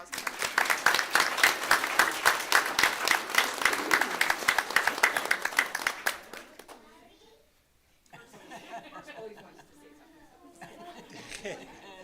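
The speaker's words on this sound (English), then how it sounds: "So if we can have a round of applause." Applause at a school board meeting, roughly six seconds of steady, fairly loud clapping from a room of people, then dying away into quiet before talking and murmuring resume.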